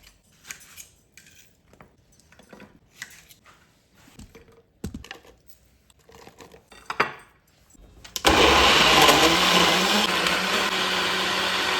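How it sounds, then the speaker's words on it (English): Quiet chopping and clicking taps, then a loud blender suddenly roars on, blitzing chunks of ginger and onion into a paste, and whirs steadily to the end. "I'm going to blitz them in the blender"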